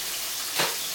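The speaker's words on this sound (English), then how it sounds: "We've got that sizzling good." Chicken livers frying in a pan give off a continuous sizzle that swells briefly for a moment and then settles back.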